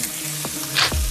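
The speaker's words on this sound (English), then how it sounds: "Nicely stir frying until soft." Red, green and yellow bell pepper strips sizzle in a cast iron pan while being stirred, a close, steady frying hiss with brief scraping stirs and one sharper burst near the end.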